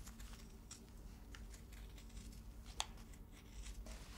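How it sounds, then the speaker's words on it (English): Scissors snip through fabric around a pattern piece while a slice rug is made, a faint series of soft crisp cuts and rustles with one sharper click partway through. "I will leave my pattern in place and simply begin to cut here"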